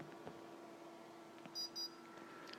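Two short, faint electronic tones from an electronic speed controller at startup, sounding close together partway through over a quiet background hum.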